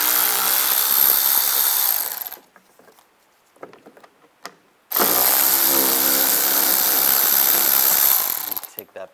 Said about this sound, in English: Underneath here, take these 2 screws out,